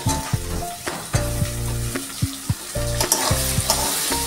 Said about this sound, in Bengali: সমস্ত উপকরণগুলো খুব ভালো করে কষিয়ে নেব।